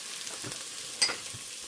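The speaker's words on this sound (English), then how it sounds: "one real large onion that I've chopped up, and I'm cooking that over a medium" A large chopped onion fries in a pot over medium heat with a steady soft sizzle and one brief clink of stirring, heard close and alone.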